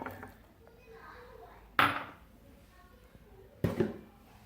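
Beef and lentils pounded in a wooden mortar, two sharp woody thuds spaced about two seconds apart over quiet kitchen background with faint talk.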